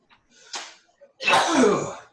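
A single loud, close sneeze bursts out after a few short sharp breaths.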